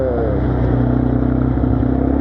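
A 200cc quad's engine runs steadily and loud up close, a continuous throaty idle with a slight rise in revs and no talk over it.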